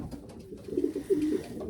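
A racing pigeon coos close by, a few soft, throaty low rolling coos in quick succession.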